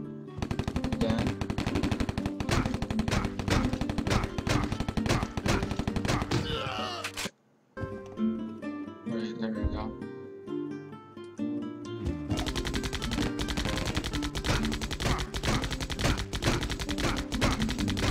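Rapid machine-gun fire from units attacking a city in Civilization 3, loud dense bursts that cut to a brief quiet with scattered tones before the rattling volleys resume.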